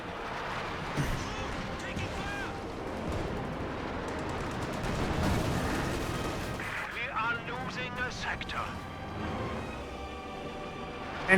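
Pack howitzer artillery fire in Company of Heroes 2, a steady dense barrage of booms and gunfire blended with battle noise and sharper explosions late on, with commentary running underneath.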